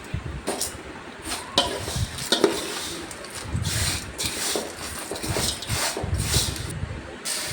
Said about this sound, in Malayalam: നെയ്ക്കകത്ത് വെർമസലി കൂടെ ഒന്ന് ബ്രൗൺ കളറാവുന്നിടം വരെ ഒന്ന് ചൂടാക്കിയെടുക്കാം